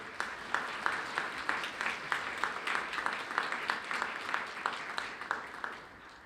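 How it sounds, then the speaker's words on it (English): An audience at a college graduation ceremony claps for the event sponsors, a steady rhythmic round of applause from a moderately sized crowd that fades out at the end. "If we could give our sponsors a round of applause, that would be great."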